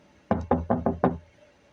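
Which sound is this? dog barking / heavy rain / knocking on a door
knocking on a door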